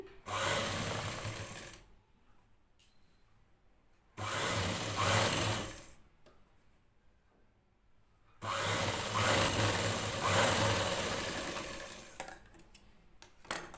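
A sewing machine top-stitches folded blouse fabric in three steady whirring runs of a few seconds each, close and clear, with quiet pauses between them.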